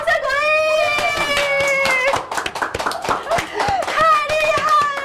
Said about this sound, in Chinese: 耶，掌声鼓励！